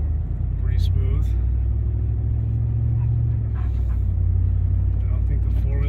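A car in four-wheel drive auto pulling away from a stop on snow, fitted with Pirelli Scorpion AT Plus tyres: a steady low engine and road rumble from inside the cabin, with someone talking over it.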